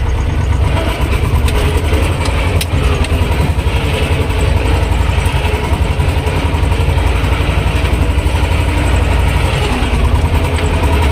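A T-25 tractor pulling disc harrows across a field, its engine a steady, loud, throbbing drone with a rough low rumble that holds unbroken throughout, close by and with no talking.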